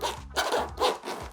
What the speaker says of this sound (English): Nice big grabbable zips as well.